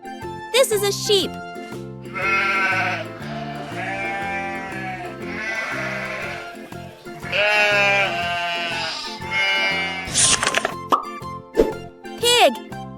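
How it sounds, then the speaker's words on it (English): A sheep bleats in two long wavering calls over light background music on a farm, with short jingling and plopping sound effects before and after. "This is a sheep."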